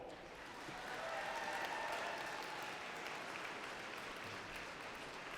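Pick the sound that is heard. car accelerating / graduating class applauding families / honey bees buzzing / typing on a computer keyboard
graduating class applauding families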